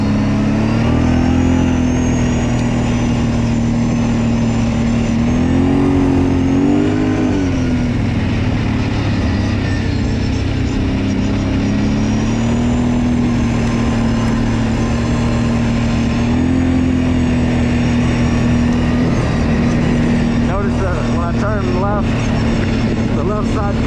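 Kawasaki Brute Force 750 ATV at high speed through turns, a loud, steady mid-pitched engine drone that rises and falls slightly with throttle, close up, with wind noise and some faint clatter toward the end.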